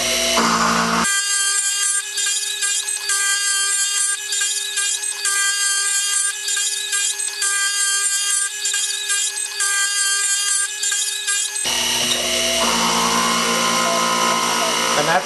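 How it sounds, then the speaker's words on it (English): Lathe taking a roughing pass on the spigot of a Stuart Beam steam gland: a loud, continuous machining whine with steady ringing tones, turning into broader, rougher cutting noise near the end, with no talking. "that's the final pass on the roughing of the spigot"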